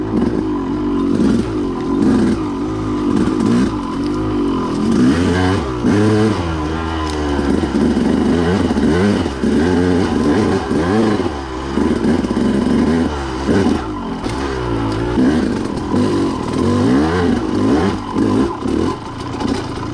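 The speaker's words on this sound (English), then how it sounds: "that 2-stroke torque on this thing is just monstrous" A KTM two-stroke enduro motorcycle revs loudly and close by, its engine rising and falling in repeated throttle bursts that run continuously through the whole stretch.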